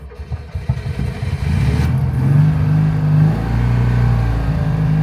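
A DAF 46 classic car engine idles with a low, steady rumble that steps up in level partway through and then holds a droning hum, close by.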